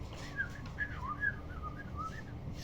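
Faint outdoor whistling from birds perched in treetops at dawn, a series of short rising and falling notes traded back and forth over a low steady background hum.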